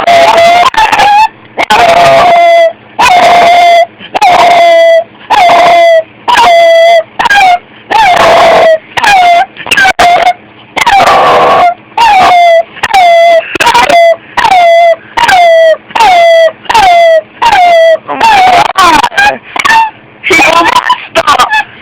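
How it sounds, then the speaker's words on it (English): A dog called Copper howls again and again in long wavering cries, about twenty rising and falling howls in a steady rhythm, loud and close, with a person talking softly between them. "Okay, howl, baby, howl."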